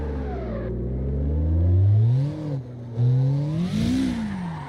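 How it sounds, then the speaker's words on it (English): A drift car's engine in the CarX Drift video game revs hard and climbs through rising and falling pitches as it slides, loud and close with a brief dip between surges and no talking. "Every time I step on the gas too hard, it loses traction and then bam, it stalls."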